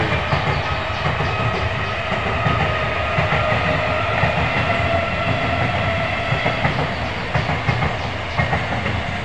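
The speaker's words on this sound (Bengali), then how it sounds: "ট্রেন আসতেছে" A Bangaon–Sealdah local train passes close by, its steady rolling rumble and rhythmic clickety-clack of wheels over rail joints running loud and unbroken for the whole stretch with no talk.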